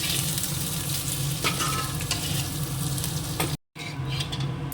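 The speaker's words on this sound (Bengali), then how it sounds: "পনিরের আলুটা একদম লাল করে ভাজা হয়ে গেছে" Paneer-coated potato pieces sizzle steadily in hot oil in a home kitchen, a loud continuous crackle with a brief dropout near the end before the frying resumes, with no voices.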